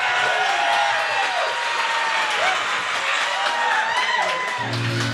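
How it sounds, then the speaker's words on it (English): A small bar audience bursts into sustained applause with cheering and scattered whoops, a dense, steady wash of clapping that holds at full strength throughout. "We should say thank you and give a big round of applause to our two guests"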